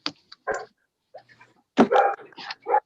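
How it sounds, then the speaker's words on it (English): A dog barks in the background of an online city council meeting, several short sharp barks and yips spread over a few seconds, fairly clear over a quiet line. "someone's dog"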